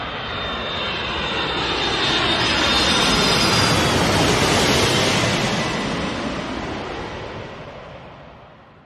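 A cartoon airplane engine roars loud and alone, swelling as it passes close by and then fading away, with no voices.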